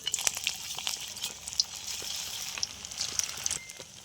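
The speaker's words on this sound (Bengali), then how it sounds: "তেল দিয়ে দিলাম। টিকিয়াগুলো ভেজে নেব।" Soft, steady sizzling of potato patties frying in hot oil in a pan, with scattered faint crackles and pops throughout.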